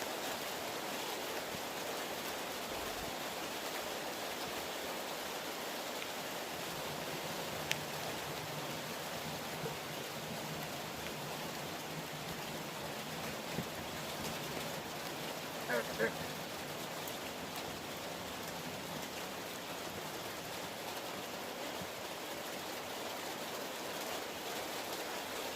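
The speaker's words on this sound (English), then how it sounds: "I'm sure you can hear it's raining" Steady, even hiss of rain falling throughout, a constant wash of noise with a few faint knocks near the middle.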